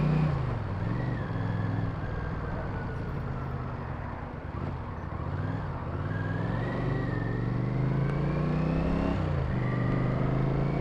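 A Honda CX650 Turbo motorcycle accelerating on an open road, its engine droning steadily with rising and falling pitch through gear changes, heard close from the rider's position over constant wind rush.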